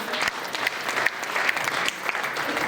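Loud, dense applause from a seminar audience honouring their gurus at an RCM business plan meeting, steady throughout with a few sharper claps standing out.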